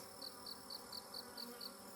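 Honeybees buzz steadily around an open hive during an inspection, a close, continuous drone with a faint regular ticking pulse running through it.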